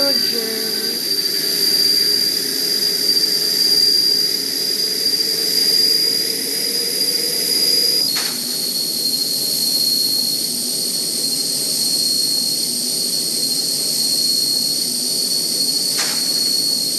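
Airplane flying in a video game, a steady loud jet-engine drone holding throughout with a sharp high whine and brief clicks at intervals, no talking.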